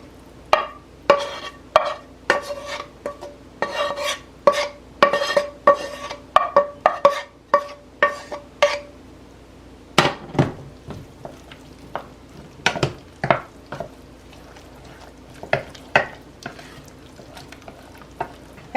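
Fried cabbage being stirred into a cream sauce in a pan, a steady run of spoon scrapes and clacks over a soft sizzle, then sparser, heavier strokes after a short pause midway.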